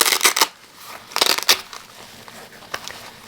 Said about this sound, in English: there's some Velcro here, so it might be a little loud